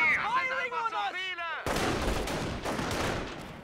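Video-game gunfire cracks out in a rapid volley of sharp, loud shots after a burst of whistling tones, ringing with a little echo as the firing trails off.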